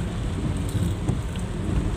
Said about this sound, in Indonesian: hujan lebat.